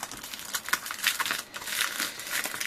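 Close, irregular crackling and rustling of paper being handled and crinkled, in short bursts with no talking.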